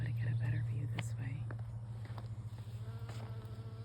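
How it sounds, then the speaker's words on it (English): Bees and other pollinators buzz softly in a butterfly garden, a faint drifting hum with a few louder passes close by, under quiet whispered talk. "If you listen, you can hear the bees"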